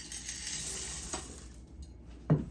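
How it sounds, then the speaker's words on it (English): M&Ms folded into cookie dough with a spatula, quiet soft scraping and stirring against a bowl, with a faint clink midway and a sharper knock of the spatula near the end. "we're just going to fold these in, meaning mix them gently or fold them with a spatula"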